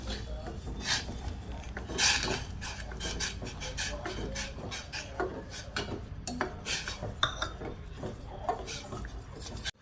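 Dry semolina (rava) being poured into a pan and stirred for rava vada, giving a continuous gritty, rasping scrape with dense clicks and taps of a utensil against the pan, fairly close and steady with no talking.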